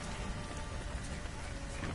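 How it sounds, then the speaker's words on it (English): Rain falling in The Witcher 3 game, a dense, steady hiss of drops on surfaces that continues evenly and fairly loud throughout, with no talk. "Looks like rain."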